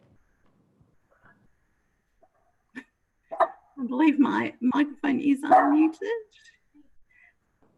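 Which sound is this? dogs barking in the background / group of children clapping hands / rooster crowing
dogs barking in the background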